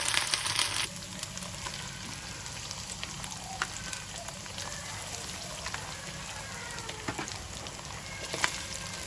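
Yogurt hits frying garlic and ginger in hot oil, setting off a loud sizzle that settles into a steady crackling fry with scattered pops, heard close up.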